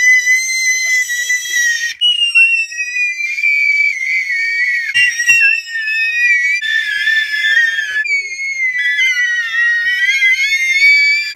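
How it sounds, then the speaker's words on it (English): A child screams loudly and shrilly inside a parked car while waiting with other kids, in long sustained piercing bursts with brief breaks, filling the whole stretch up close. "I think you should scream."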